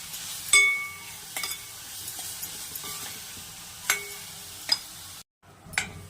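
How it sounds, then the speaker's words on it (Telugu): Cumin and coriander powder with salt frying in oil in a pan for a tomato egg curry, a soft sizzle under intermittent sharp clinks and scrapes of a spoon against metal. "కొద్దిసేపు ఉడకనివ్వాలి నూనెలో"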